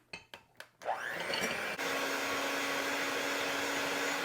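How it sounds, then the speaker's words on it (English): Handheld electric mixer beating egg yolks for an eggnog cake: a few short clicks and bumps, then the motor spins up into a steady loud whir with a rising pitch that holds to the end, no voices. "I'm going to take a hand mixer and I'm just going to beat the egg yolks until they're light yellow color."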